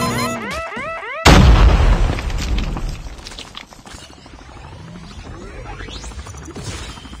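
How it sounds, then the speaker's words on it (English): A vehicle blows up in the Call of Duty Mobile battle royale game, one loud, sharp boom that rolls off into crackling debris and lingering rumble amid ongoing game sounds. "Our vehicle is about to explode."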